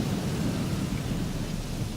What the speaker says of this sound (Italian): il rumore della pioggia sicuramente non ci aiuta